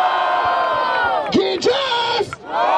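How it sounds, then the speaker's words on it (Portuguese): Crowd at a Brazilian street rap battle roaring and yelling together, a loud sustained mass of cheering voices close by with sharp whoops rising out of it and a brief dip before it swells again. "Grita pra um só com muito barulho! Por ordem de rima, barulho para as rimas do Kik!"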